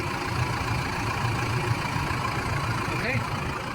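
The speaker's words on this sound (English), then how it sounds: "let me just pause and start the engine" A car engine idles after being started during serpentine and fan belt replacement, giving a steady low mechanical hum that runs evenly throughout at close range.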